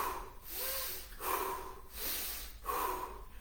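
Up close, a person draws breath in through the nose and then pushes out a quicker, sharper exhale, repeating the cycle about three times in an even rhythm.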